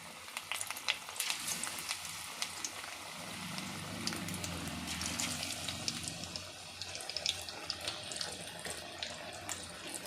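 Brinjal pakodi pieces dropped one by one into hot oil on a stove send up a continuous, fairly loud bubbling hiss with crackling spits, heard alone without speech.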